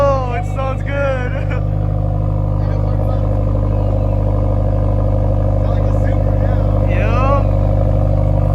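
A Subaru WRX fitted with a Remark Boso axleback exhaust idles just after startup, a loud, deep and steady exhaust rumble close by while people cheer and talk over it.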